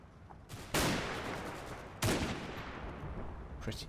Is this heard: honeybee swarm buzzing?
no